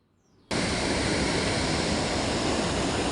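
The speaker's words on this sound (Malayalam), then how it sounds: "എന്താ വെള്ളത്തിൻ്റെ ഒഴുക്കല്ലേ." Valara waterfall near Munnar on a rainy day bursts in after a brief quiet start, then holds as a loud, steady, close roar of rushing water.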